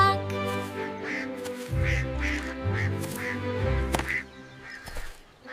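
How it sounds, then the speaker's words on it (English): Cartoon ducks quack repeatedly in a bright farm-pond scene, a run of nasal calls over bouncy background music, fairly close and clear. "Quack quack, I hear a duck."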